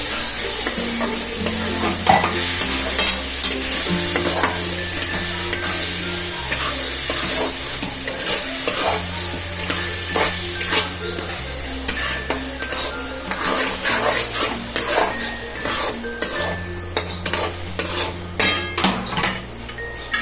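Mango ladoo mixture with sugar being stirred in a pan, loud repeated scraping and clinking of a spoon against the metal over a steady sizzle, with a rhythmic background music track underneath.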